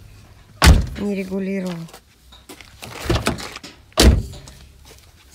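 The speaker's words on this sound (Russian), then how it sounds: "Странно, что на Кубе все двери закрываются с разным звуком." Car doors on a Cuban car being shut, two solid thumping slams a few seconds apart, close and loud, with someone speaking between them.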